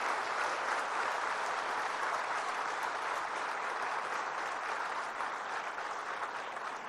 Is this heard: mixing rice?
no